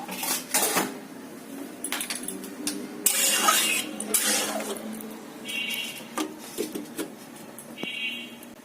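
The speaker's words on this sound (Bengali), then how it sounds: "এবার আমি ঝোলটাকে ভালোভাবে ফোটার জন্য ঢাকনা দিয়ে ঢেকে দেব" A lid clatters onto a metal pot of simmering tilapia fish curry with brinjal in a village kitchen, giving a few sharp clinks and scrapes with short pauses between them, close and fairly clear.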